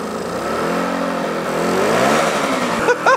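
A 1960s Yamaha motorcycle engine, a roughly $200 scrapyard find, runs loud and close with a steady mid-pitched drone and rising and falling revs, ending in a few short bursts.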